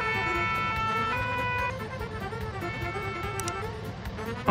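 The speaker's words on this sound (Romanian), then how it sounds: "Avem de asta girofar audio de la sirena." A wailing emergency beacon siren in Farming Simulator 19 sounds steadily, its tones cycling and shifting pitch, loud and close over a low engine hum.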